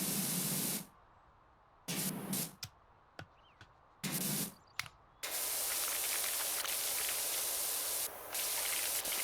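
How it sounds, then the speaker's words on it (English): A pressure washer in the Power Wash Simulator video game sprays a propane tank with the mini nozzle, a hissing jet that cuts in and out in short bursts before settling into a long, steady spray. "I also don't think I should be pressure washing a propane tank"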